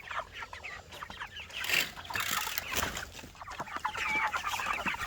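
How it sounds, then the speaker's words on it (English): Cornish chickens cluck and squawk at feeding time, a busy chorus of short, repeated calls from several birds close by, rising in intensity with occasional louder squawks. "it's time to feed the Cornish"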